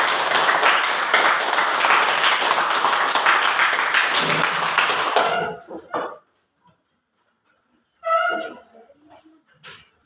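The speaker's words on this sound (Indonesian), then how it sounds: "Mari kita berikan tepuk tangan untuk kelompok" A class applauds a student group: loud, dense clapping fills the first five seconds, then breaks off into near silence with a few scattered sounds and a brief burst near the end.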